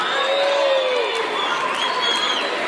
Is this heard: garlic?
no